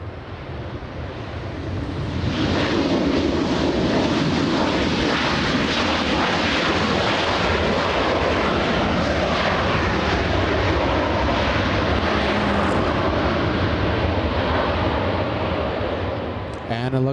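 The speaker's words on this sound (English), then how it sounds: "it looks like we have another 757 on the move" A United Boeing 757 airliner at LAX airport, its jet engines building to a loud, steady roar after a quieter start and holding near for over ten seconds, with wind noise on the microphone.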